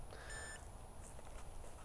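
A drone emits a short tonal beep during compass calibration in QGroundControl, a single brief beep over steady background noise.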